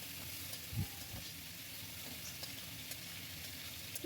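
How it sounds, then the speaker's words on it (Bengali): Potatoes being fried with spices in a pan in a home kitchen, producing a soft, steady hiss of sizzling with one brief scrape near the start. The sound is faint and there is no talking. "আলু মশলার সঙ্গে ভালো করে কষিয়ে নেব।"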